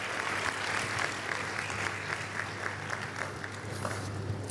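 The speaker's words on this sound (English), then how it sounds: "Let's give him a round of applause." A large audience applauds at a university convocation lecture, a continuous dense wash of clapping heard from some distance in a big hall, with a low steady hum underneath.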